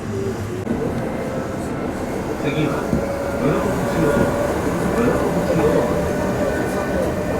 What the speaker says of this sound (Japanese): 最初に乗るのは8時37分発の大阪上本町行きの急行